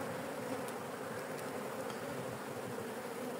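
Honeybees hum continuously at an opened hive over the brood frames, a close, even buzzing drone with no talk.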